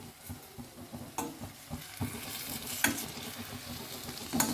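Cauliflower florets sizzle and fry with spices in a kadai as they are stirred, a steady close crackling hiss with soft scraping strokes and a few sharper clinks of the spoon against the pan.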